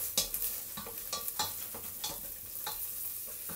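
Lardons fry in a pan, a soft sizzle with a run of scraping stirs and clicks of a utensil against the pan, fairly quiet and close, no voices.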